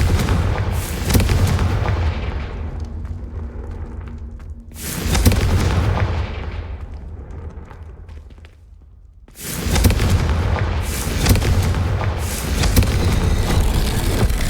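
Confringo fire spell blasts in the video game Hogwarts Legacy, with several loud booming explosive bursts and rumbling roars separated by short quieter gaps, dense and close, no talking.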